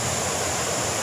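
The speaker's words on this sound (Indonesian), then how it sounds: "hari ini saya berada di air terjun Gunung Banteng" Gunung Banteng waterfall in the East Kalimantan forest pours in a steady, loud rushing hiss, broadband and unbroken.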